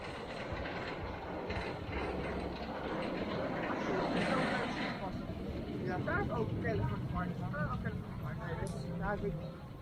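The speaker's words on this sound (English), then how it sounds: "They're sending an empty train up." An empty roller coaster train rumbles and clatters up the track at Walibi Holland, steady and fairly close, with a few voices talking in the background.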